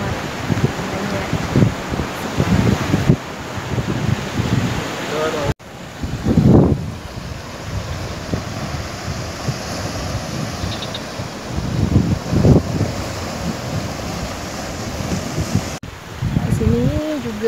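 Steady roar of surf and wind at Bugel Cemara beach, with gusts buffeting the microphone and waves washing in continuously.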